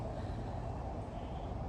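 Cars drive along a residential street on an outdoor walk, producing a soft, continuous low traffic rumble at a distance with no distinct passes.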